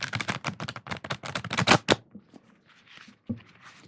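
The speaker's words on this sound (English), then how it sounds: "I still have trouble shuffling this big old deck." A rapid riffle of a large tarot deck flutters for about two seconds, followed by a few softer shuffling taps and one sharp knock, close by.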